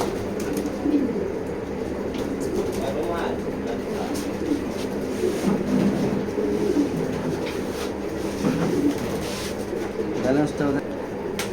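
Pigeons coo in a low, rolling chorus inside a pigeon loft, near and continuous throughout, with someone talking over the birds.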